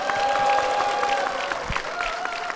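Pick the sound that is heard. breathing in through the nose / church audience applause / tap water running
church audience applause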